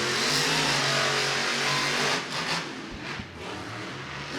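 Monster trucks roar at a Monster Jam race in Orlando's Camping World Stadium, the engines loud and sustained at first, then dipping and surging again as the revs rise and fall.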